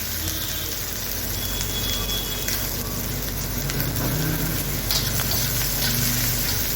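Onion sizzles in a hot pan with a steady, fairly loud crackle and hiss, joined by light stirring scrapes and an underlying low hum.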